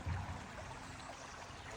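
Water flows and trickles continuously at a soft, even level, a gentle rushing murmur with no other sounds.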